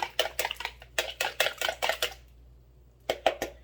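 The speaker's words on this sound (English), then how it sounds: "I'm having 2 eggs that I'm whisking together" Two eggs are whisked together in a bowl: a quick, steady run of close clinking strokes that pauses for about a second, then starts again.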